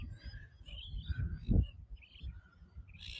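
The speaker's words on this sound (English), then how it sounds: "it looks like the birds like to sit on top of that one" Birds call around a statue in Sydney's Royal Botanic Garden, with several chirps and short calls at moderate distance. A low outdoor rumble and a brief thump sit underneath, and no one speaks.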